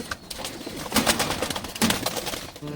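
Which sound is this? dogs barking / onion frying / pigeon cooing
pigeon cooing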